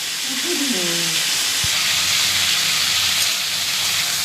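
Cauliflower and potato pieces frying in a pan, browning to a reddish color, give a steady broad sizzle and hiss that runs unbroken, with a brief low knock near the middle and some faint background tones.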